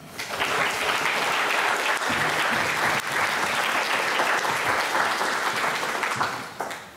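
Audience applause welcoming Carlo McCormick to a Tuesday Evenings at the Modern lecture at the Modern museum, a steady, full-room clapping that swells quickly, holds evenly for several seconds and tapers at the end.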